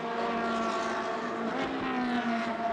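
Race cars in a Trofeo Pirelli race at the Sochi Autodrome scream past with high-revving engines, a sustained tonal whine rising and falling across several cars at moderate distance.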